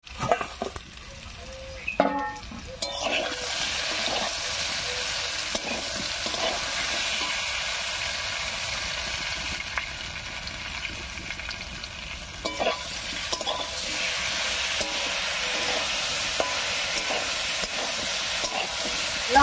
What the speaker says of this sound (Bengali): লঙ্কা বাটা দিয়ে আলু আর কচুর সঙ্গে খুব ভালো করে মিশিয়ে নিয়েছি।